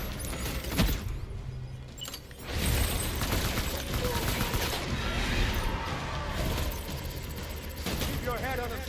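Gunfire in the Death Stranding video game, with dense bursts of rapid shots and mechanical clatter running steadily throughout, close and loud, while a voice talks over the action.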